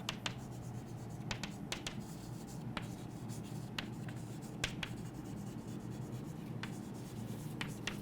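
Pen scratching across paper while notes are handwritten, close and steady, with short sharp strokes at irregular intervals over a constant low room hum and no talking.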